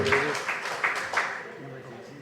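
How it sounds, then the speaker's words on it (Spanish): Audience applause rings out at a Peruvian National Police award ceremony, a burst of clapping that swells near the start and gradually thins out, with background voices mixed in. "Fuerte los aplausos, por favor."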